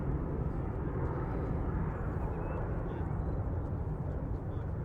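Airliner taking off from runway 23 right at Manchester Airport on a windy day, a loud, steady low roar of jet engines and rushing wind filling the whole stretch without letting up.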